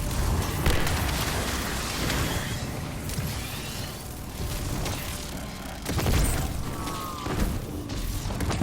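Booming explosions in a Destiny-style shooter video game, The Edge of Fate on legendary mode, with several heavy blasts and whooshes rolling over a dense mechanical din, one strong burst near the end.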